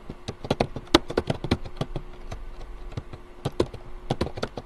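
Keys clack on a computer keyboard in irregular bursts of quick taps with short pauses between them, crisp and close over a low steady hum, no voices.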